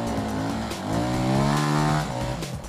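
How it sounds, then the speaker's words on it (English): A Yamaha WR250 enduro motorcycle engine at an enduro race climbs in pitch as the rider keeps momentum uphill, a loud, steady revving drone that swells mid-clip and then eases off, with no talk over it. "Sounds like a WR250."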